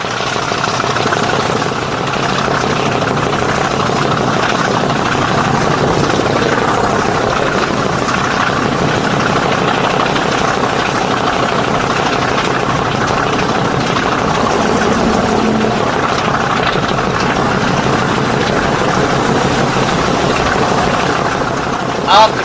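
Class 50 diesel locomotive working near the summit past Erdington, its engine throbbing with a loud, steady rhythmic beat close by throughout.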